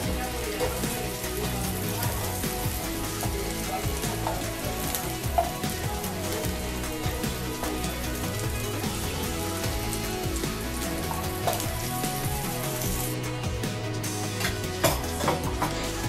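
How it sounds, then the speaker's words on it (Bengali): Cauliflower, peas and chickpeas frying together in oil in a pan, a dense continuous crackling sizzle, loud and close, with occasional stirring scrapes throughout. "এবার সব কিছু একবারে ভালো করে ভেজে নিয়ে তুলে নিচ্ছি।"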